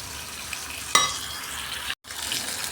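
Tomatoes frying in a generous amount of oil in a pan, a steady soft sizzle and crackle with a brief sharper burst near the start, no voices.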